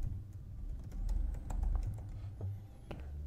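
Keystrokes on a computer keyboard entering a username and password, a short run of a dozen or so distinct clicks at close range with no talk.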